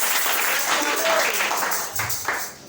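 A church congregation applauding and cheering, a dense wash of clapping from many hands with voices mixed in, loud and sustained before tapering near the end.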